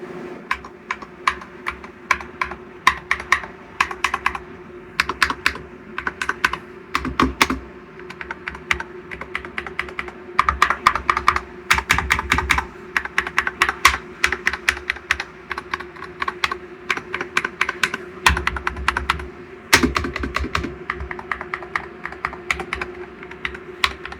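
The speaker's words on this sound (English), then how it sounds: "Cheap magnetic switches usually sound terrible, like scratchy plastic. So let's do a sound test." Rapid, continuous typing on a Gamakay NS68 mechanical keyboard with factory-lubed Peach magnetic Hall effect switches, crisp clacky keystrokes in irregular bursts, close up and alone.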